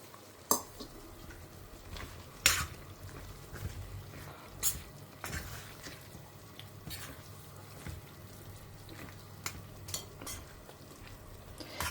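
Cooked moong dal tipped into softened, sautéed pointed gourd, then stirred with a spoon against the pan, a series of sharp clinks and scrapes spaced out over a low, steady kitchen background.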